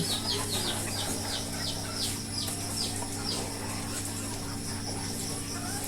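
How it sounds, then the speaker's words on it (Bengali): Chickens on a poultry farm eating feed, giving a rapid run of soft, repeated clucks and chirps over a constant mechanical hum, fairly close and steady. "মুরগিগুলো খাবার পানি খায়"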